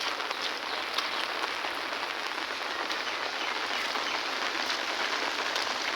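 Heavy monsoon rain pouring down amid flooding, an unbroken close hiss of drops drumming on surfaces, steady and uniform from start to finish with no voices.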